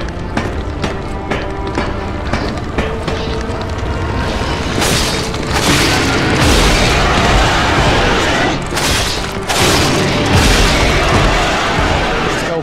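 Heavy booming cannon blasts and crashes in a dense, loud soundscape from the game Lies of P, with repeated explosive thuds layered over constant rumbling action.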